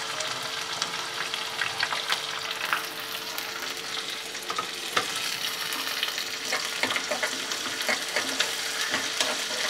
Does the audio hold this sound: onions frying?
yes